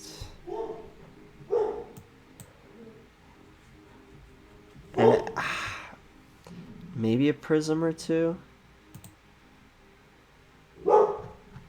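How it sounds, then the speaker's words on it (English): A dog in a house barks in short bursts in the background, several separate barks and a longer run of yips, while someone talks quietly over it. "There's my dog, or my parents' dog, barking in the background."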